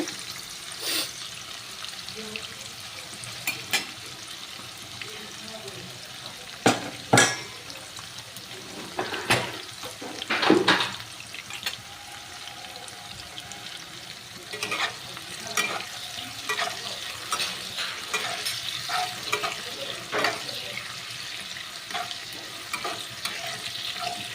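Chopped onions fry in oil with bay leaves, a steady broadband sizzle with occasional louder stirring scrapes and clatters throughout.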